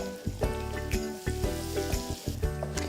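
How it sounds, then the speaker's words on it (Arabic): Flour frying in butter in a pan sizzles steadily up close, while a tool strikes and scrapes the pan in a regular rhythm; there is no speech. "هلا نضيف الطحين، بدي اقليه منيح مع الزبدة وخليه يتشرب الزبدة الموجودة."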